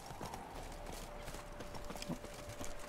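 Horse hooves clip-clop steadily in The Witcher 3 video game, a repeated, moderately faint rhythm of hoofbeats over a continuous background bed with a thin steady tone.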